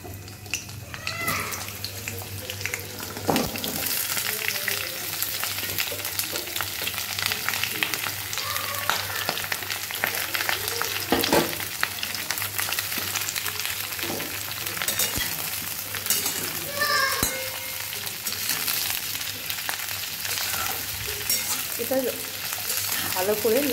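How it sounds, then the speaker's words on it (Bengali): Potatoes and cauliflower fry in hot oil with a continuous crackling sizzle and occasional stirring. Faint cat-like meows surface now and then over the frying. "तेलटा गरम हो गेछे, एबार आमी एर मध्ये आलू और फुलकपिटा छेड़े देब"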